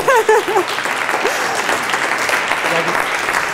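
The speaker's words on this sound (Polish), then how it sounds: "Klaszcie, klaszcie!" Audience at a lecture on clear, correct writing breaking into loud sustained applause on request, dense steady clapping throughout, with a voice speaking briefly at the start.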